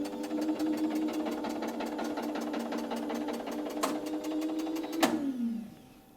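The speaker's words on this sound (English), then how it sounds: "I put B10E to motor, and I'm going to run the motor." An electric motor winds the spring of a circuit breaker's charging mechanism during timing tests, giving a steady mechanical whir with a regular ticking rhythm. Near the end comes a sharp clack, then the motor winds down and stops.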